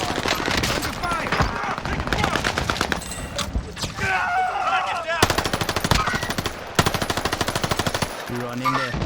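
Dense, loud automatic gunfire in the video game Warzone, with rapid continuous bursts and game radio voices calling out over the shooting.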